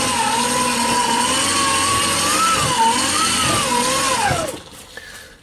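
An old military hand crank generator whines as it is cranked hard to light a 50 watt bulb, a steady, gently wavering gear tone that rises and dips with the cranking speed and then winds down and stops.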